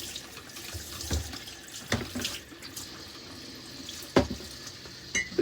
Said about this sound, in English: Turn the hot water on.